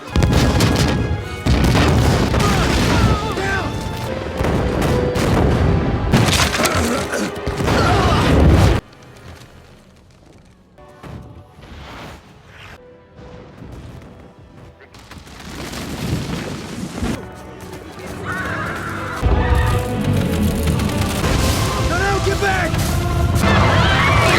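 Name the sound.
explosions in Avatar film attack scene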